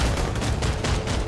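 Dense gunfire from the video game PlanetSide 2 crackles in a rapid burst of overlapping shots.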